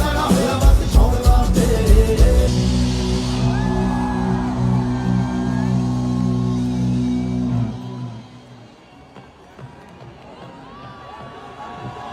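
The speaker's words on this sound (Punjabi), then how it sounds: "ਅਮਰਤ ਬਾਜੀ ਲਈ ਜ਼ੋਰਦਾਰ ਤਾੜੀਆਂ" A live show crowd cheers, whoops and applauds for the performer Amrit, a loud broad roar that first rises under fading music, then carries on alone at a lower level.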